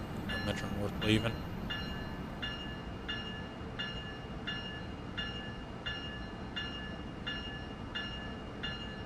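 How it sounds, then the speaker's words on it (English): Metro North commuter train pulling out of Stamford station in Train Sim World 6, a steady rolling rumble with regular rhythmic clicks repeating about every second, and a brief louder burst near the start. "Metro North leaving."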